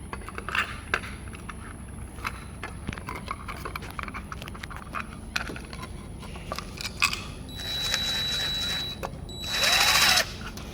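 A power drill drives a screw into place during a Digi smart sense install, with two short whirring bursts near the end, the second louder, after a stretch of low background noise and scattered light clicks.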